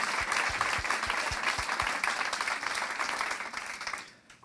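A seated audience applauds at a talk on harassment, steady dense clapping close in with a few low thumps early on, fading out near the end.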